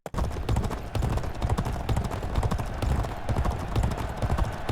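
Rapid, rhythmic hoofbeats of a galloping racehorse in a horse-racing video game pound steadily and close, with a faint whinny and a busy background.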